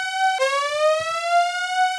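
An alarm siren sound effect: a single loud, bright electronic wail that jumps up in pitch, then rises slowly and holds steady, heard on its own.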